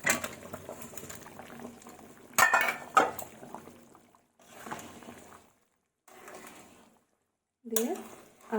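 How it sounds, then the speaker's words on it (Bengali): Mutton curry broth bubbling in a pot, with clinks of a metal spoon against the vessel. Short bursts of bubbling and stirring are broken by brief silent gaps. "আমার ঝোলটা খুব সুন্দরভাবে ফুটে গেছে"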